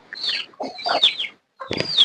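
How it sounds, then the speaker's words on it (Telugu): Country chickens clucking close by in a small tribal village, several short bursts with a brief pause between, a lively farmyard chorus and no voices. "మాకైతే నాటుకోళ్ళు ఎక్కువ ఉంటాయండి"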